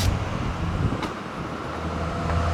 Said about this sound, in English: Oh, and lots of wind.